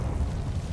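A Confringo blasting curse explodes in Hogwarts Legacy: a short, deep, rumbling blast with heavy low-end that sustains through the brief moment.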